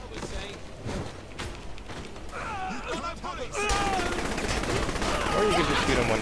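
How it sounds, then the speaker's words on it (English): Gunfire in the video game Saints Row The Third during a co-op mission, repeated shots and bursts rising to sustained loud firing in the second half, with game sounds and voices mixed underneath. "Or you can just shoot him when he's on the ground."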